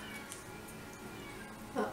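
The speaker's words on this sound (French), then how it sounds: "oh, il y a un chat qui veut rentrer" A cat meows outside a door on a windy day, wanting to come in; one short, faint cry rises near the end over quiet room noise.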